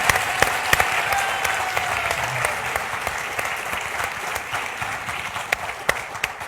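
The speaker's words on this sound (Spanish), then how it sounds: "Les pido por favor un caluroso aplauso para don Pedro Carrefour." An audience claps in a sustained burst of applause, welcoming Pedro Cayuqueo at a panel forum, with dense overlapping handclaps and a few sharper individual claps standing out, steady and fairly loud throughout.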